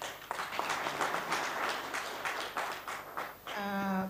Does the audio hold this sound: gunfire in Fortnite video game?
no